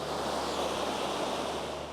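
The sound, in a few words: waterfall river rapids in Inverness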